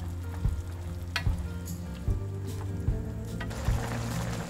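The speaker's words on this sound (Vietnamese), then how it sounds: "Các bạn đun cho đến khi nồi bánh gạo cay của mình nó sền sệt phần nước sốt lại là được nhé." Spicy Korean tteokbokki rice cakes in a thick sweet-chili sauce bubble and sizzle steadily in a pot, a continuous close crackling hiss broken by several soft thumps of stirring, with no talking.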